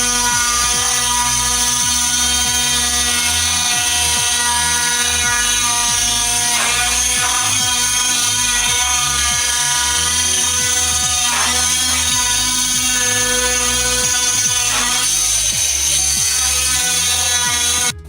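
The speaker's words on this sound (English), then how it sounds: "we use the multi-tool so that we can get back over here and get to all those screws that you see there" An oscillating multi-tool buzzes continuously while working on the screws holding a bathtub in place during a remodel, a loud, close, steady high-pitched drone lasting the whole stretch.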